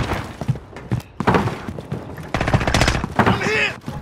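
Loud, close bursts of automatic gunfire in Call of Duty Modern Warfare, repeated volleys with short pauses between them, dense and punchy, with brief in-game radio chatter mixed in.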